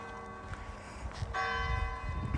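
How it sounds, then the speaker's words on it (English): A church bell rings out across a graveyard, its sustained tones carrying under a low rumble of background noise, with no one speaking. "the church bell just rang"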